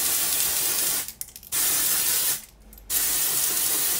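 Three long, steady hissing sprays of shampoo from a spray cap nozzle, close and loud, separated by two brief pauses.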